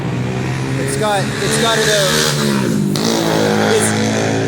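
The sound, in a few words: loud traffic at Berastagi bus station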